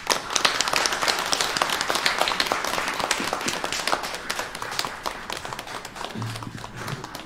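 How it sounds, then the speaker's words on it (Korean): A church congregation at a 30th-anniversary service claps together in a dense, continuous round of applause that slowly thins toward the end. "박수로 축복해 주시기 바랍니다."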